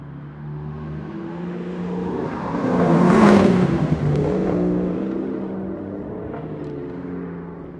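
A synthetic sports car engine revs up, swelling to a loud roaring peak around the middle and then easing back to a steady droning whir, with no voices.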